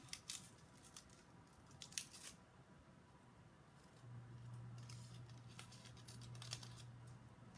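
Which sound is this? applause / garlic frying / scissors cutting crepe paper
scissors cutting crepe paper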